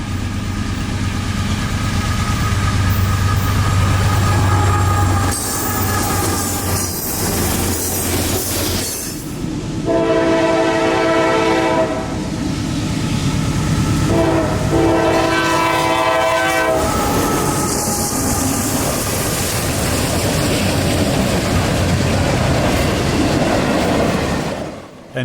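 Loud trains rumble past on the Chicago line in Sandusky, Ohio, with clattering wheels and long blasts of a horn sounding twice, the roar fading out at the end.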